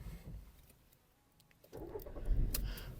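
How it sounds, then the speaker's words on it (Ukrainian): Quiet clicks and a brief rustle, then a Skoda Fabia II engine cranks and catches, settling into a low rumble at the end. "Давайте запустимо двигун."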